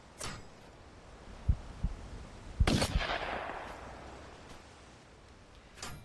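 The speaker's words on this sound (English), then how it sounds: "It's a Browning over-under double barrel 12 gauge shotgun." A Browning Superposed over-under double-barrel 12 gauge shotgun in a hunting video game fires a sharp, loud blast that fades into a long rolling echo, with a few faint thumps before it and a distant report at the end.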